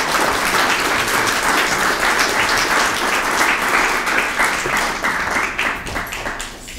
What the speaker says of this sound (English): I would like you to welcome Mr. Bartholomew with a warm round of applause